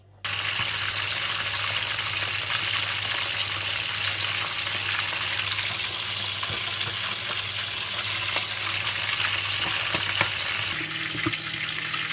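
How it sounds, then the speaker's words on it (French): Turkey wing pieces fry in hot oil with a loud, dense, continuous crackling sizzle that starts abruptly and holds steady for several seconds, close to the pan, with a low steady hum underneath and no speech. "Donc, je vais frire tout ça et je vous reviens juste après."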